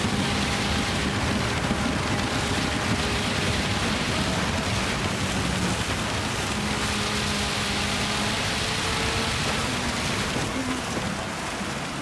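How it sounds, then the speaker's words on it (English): Heavy rain pours down as a dense, loud, continuous hiss that stays steady throughout, with a faint engine drone running underneath during a Gran Turismo 7 lobby race. "I can hardly hear myself think with the noise of this rain coming down."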